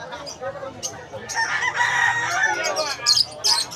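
Roosters crow and hens cluck at a busy bird sale in Malabon, with several birds calling over one another at close range amid steady market noise and some human voices.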